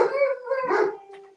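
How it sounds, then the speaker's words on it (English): A dog howls and whines in drawn-out, wavering tones, close and fairly loud, with a brief yip at the end. "go ahead. Keep barking."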